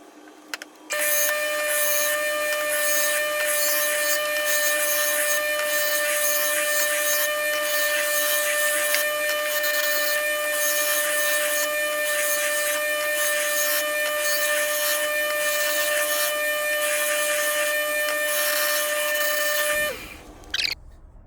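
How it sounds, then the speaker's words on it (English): A woodturning gouge is sharpened against a bench grinder, giving a loud, continuous high-pitched grinding whine with a steady ringing tone. It runs for about twenty seconds, then stops abruptly. "that gives me a nice, clean, consistent grind all the way around"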